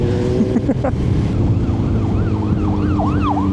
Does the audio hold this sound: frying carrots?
no